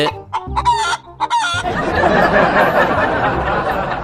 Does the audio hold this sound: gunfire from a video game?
no